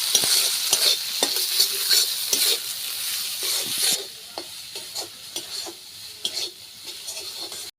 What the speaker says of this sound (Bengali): মশলা ভাজা হয়ে গেছে গা